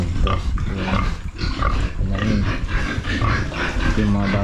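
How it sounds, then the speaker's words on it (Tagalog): Pigs grunting and oinking in a pen after river floodwater entered a house, close and repeated, mixed with people talking throughout. "Nandyan yung mga baboy natin."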